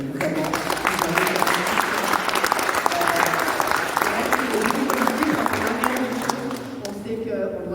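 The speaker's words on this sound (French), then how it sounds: "je pense qu'on peut vous applaudir toutes et tous" Audience applause after the unveiling of Santiago de Compostela route signage, a dense, steady wash of many hands clapping that fills the room and tapers off near the end, with a voice talking over it.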